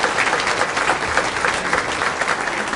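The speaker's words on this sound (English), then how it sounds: "How about a round of applause?" A crowd applauds, dense and steady, with many hands clapping at once and no voices rising above it.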